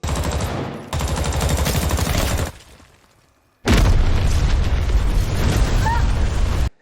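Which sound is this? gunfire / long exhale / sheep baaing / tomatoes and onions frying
gunfire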